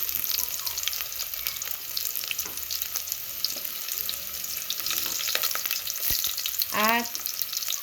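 Garlic frying in a pan makes a steady, close sizzle throughout, with scattered clicks and light scraping of stirring and a brief clatter near the end, and no voices.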